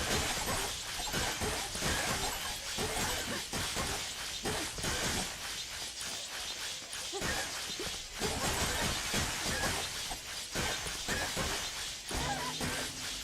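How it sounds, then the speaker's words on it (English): Objects smashing and shattering in the Minion Rush mobile game, a dense run of crunchy breaking and crashing impacts that keeps going steadily and loudly through the whole stretch, with no talking over it. "I think we smashed so many objects already."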